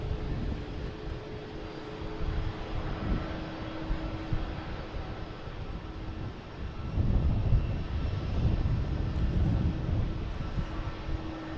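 An airliner bound for Amsterdam takes off from runway 4 Right at Boston Logan Airport, its engines a continuous distant roar with rumbling lows that swells noticeably louder about two-thirds of the way through.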